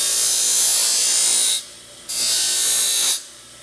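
A sheet metal burr edge is pressed against a spinning grinding wheel to open it up, giving a bright, harsh scraping hiss in two long bursts with a short pause between and a trailing gap, close and loud.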